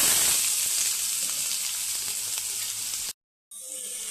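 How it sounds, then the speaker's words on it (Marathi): Chopped onion hits hot oil in a kadhai and sets off a loud, steady sizzle and crackle close by, which cuts out briefly near the end. "तर तेलमध्ये आपल्याला घालायचा आहे कांदा"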